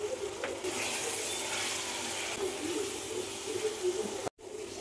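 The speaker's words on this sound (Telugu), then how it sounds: "ఇప్పుడు వాటర్ వేసుకుందాం." Water is poured into a pot of chicken and broad bean curry, a steady gushing splash lasting several seconds before cutting off abruptly, followed by quieter bubbling.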